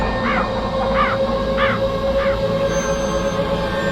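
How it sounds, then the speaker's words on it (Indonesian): Four harsh crow caws spaced about evenly apart over steady background hum, moderately near and fairly loud. "Dan lagi-lagi suara burung gagak itu terdengar."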